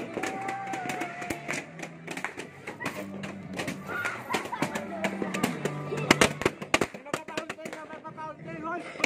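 New Year's fireworks and firecrackers in Cainta, Rizal, in the Philippines: dense, irregular bursts of pops and thumps crackle continuously throughout, close and loud, with voices shouting and talking underneath.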